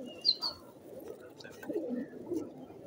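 Several Rangdaar pigeons coo softly and repeatedly at close range on a pigeon farm in Multan, with a few higher chirps in the first half.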